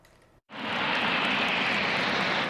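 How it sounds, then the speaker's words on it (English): Airplanes fly over Portsmouth, England, during a D-Day 75th anniversary commemoration, a loud broad engine rumble swelling in after a brief quiet moment and holding steady. "The rumble of airplanes once again filled the sky over Portsmouth, England"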